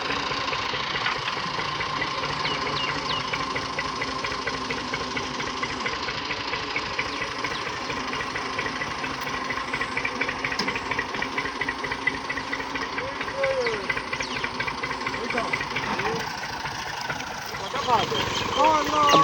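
A tractor engine runs in a steady, loud, rumbling drone on a village farm field after sowing, continuous from start to finish.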